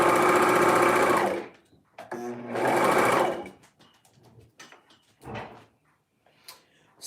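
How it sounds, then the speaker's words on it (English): Two bursts of a sewing machine stitching at speed, about a second each, separated by quieter clicks and handling sounds of fabric and parts. "we're going to hit it with the sewing machine and then attach it"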